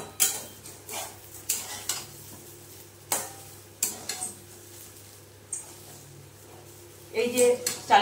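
Rice is stir-fried with fried onions in a pan for polao: sparse scrapes and clinks of a utensil against the pan over a faint sizzle, with a quiet voice speaking in places.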